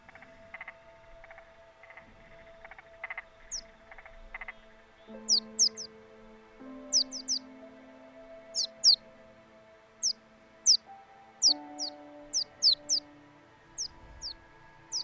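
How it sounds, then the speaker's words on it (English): In a Unity game scene, quiet synthesized birds chirp in short, sharp repeated tweets, scattered and growing busier, over soft melodic game music with sustained tones. "the birds are too quiet for the music"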